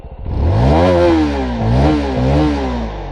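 Motorcycle engine revving, likely a 250NK or 450SR, loud and close: a sustained throaty roar rising and falling through several throttle blips over about three seconds, with no speech.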